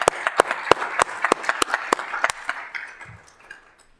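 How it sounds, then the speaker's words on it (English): Scattered claps ring out at a city council meeting, a small group clapping briskly in distinct sharp bursts that thin out and die away within a few seconds. "Let's do a round of applause for them."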